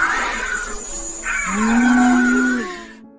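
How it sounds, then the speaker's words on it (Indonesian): A cheetah gives a drawn-out, nasal call that rises and falls, close and fairly loud, with a higher chirping tone before it and quiet background. "Citah punya suara yang unik dan beragam."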